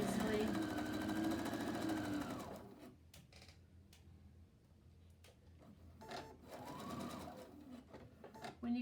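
A domestic sewing machine stitches a 5/8-inch seam in Pendleton wool shirt fabric, a close, even mechanical whir that runs, pauses and starts again, with someone talking over parts of it.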